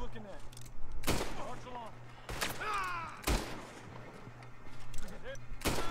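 Lemoyne Raiders trading gunfire in the Red Dead Redemption 2 game world, with several sharp, loud shots spaced about a second apart over a steady background hum and scattered game chatter.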